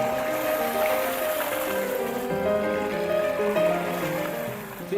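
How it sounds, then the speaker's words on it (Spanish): Two water wheels, one driven from above and one from below, turn in flowing water, producing a steady, loud rushing and churning splash that continues without a break and without speech. "La rueda hidráulica impulsada por arriba va en la dirección que debería ir y arrastra a la rueda impulsada por abajo con ella."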